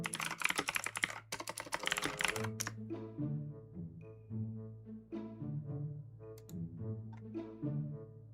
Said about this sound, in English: You like my keyboard? Like the sounds it makes, or what?